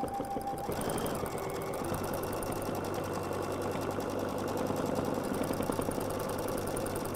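A sewing machine stitches free-motion swirl feathers on a quilt, running in a steady continuous whir with a fast rhythmic needle chatter that stays loud and close for the whole stretch, with no talking.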